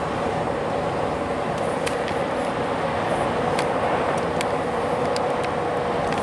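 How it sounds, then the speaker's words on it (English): Passing trains give a continuous broad rumble and rolling roar with occasional sharp metallic clicks, steady and moderately loud throughout, no talking. "Oh, choo-choo trains."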